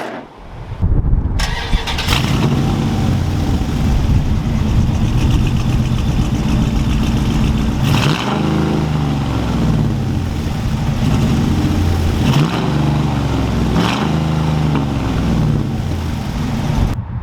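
A 1948 DeSoto restomod's 5.7 HEMI V8 cranks and fires up, then settles into a deep rumbling idle, broken by several loud throaty revs close by.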